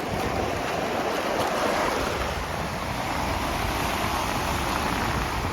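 High surf pounds a rocky shore under a low pressure system, a steady loud wash of breaking waves with wind buffeting the microphone, no voices.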